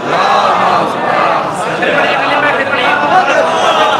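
A large crowd at a Youm-e-Hussain religious gathering chants the Naara-e-Haidri slogan in unison, a loud, dense roar of voices that stays sustained and close throughout.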